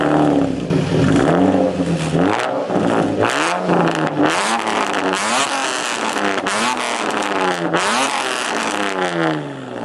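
A loud Nissan 350Z engine revs repeatedly, its pitch climbing and falling in several sweeping surges, close and continuous with no talking.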